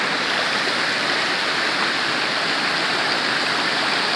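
A mountain stream of fresh, cold water rushes steadily at close range, a dense, even wash of flowing water with no pauses and no voices.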